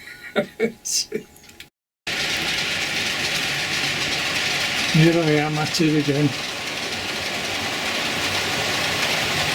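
Model diesel trains, six on four tracks of a layout, rumble steadily with a faint engine hum, a brief whistle-like tone sounding midway, after a short spoken line at the start.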